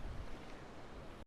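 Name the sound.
small calm sea waves at a Vizag beach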